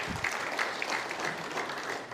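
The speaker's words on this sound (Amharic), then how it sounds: "ጭብጨባ የለም።" An audience breaks into applause at a religious gathering addressed by a bishop, a steady wash of many hands clapping throughout, moderately loud and slightly distant, with no speech over it.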